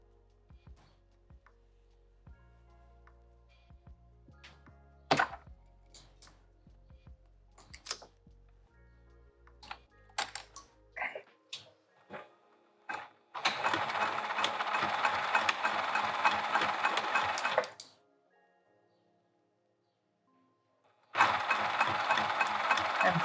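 A sewing machine stitches through a vinyl handbag in two close bursts of fast steady whirring, separated by a brief pause. Scattered clicks and handling taps come before the stitching as the tag is placed and the opening is closed.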